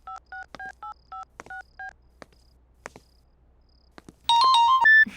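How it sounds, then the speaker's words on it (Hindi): Telephone keypad tones beep as a number is dialed, a quick run of paired beeps followed by faint clicks, then a louder ringing tone begins as the call goes through. "सिमरन को फोन करता हूँ।"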